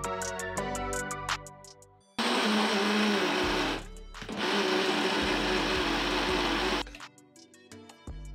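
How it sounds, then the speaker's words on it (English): Small blender whirs loudly through marinade ingredients of vinegar, olive oil, lemon juice, lemon zest, cilantro and scallions, running in two long bursts with a brief pause between, with clinking and handling noises before and after. "all chopped and processed in a small blender"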